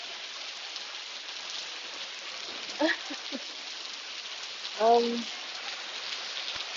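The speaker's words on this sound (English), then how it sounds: "I'm actually surprised you guys can hear the rain." Rain falls steadily in a street in Telok Ayer, Singapore, an even close hiss throughout, with a person speaking briefly over it twice.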